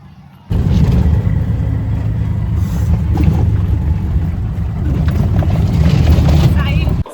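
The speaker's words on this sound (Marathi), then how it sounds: "चालत चालत म्हणून रिक्षा आली आहे घ्यायला" An auto-rickshaw pulls up close by on a village road during a hillside fair trip; its loud, steady engine rumble kicks in abruptly and runs unbroken to the end, with voices mixed faintly underneath.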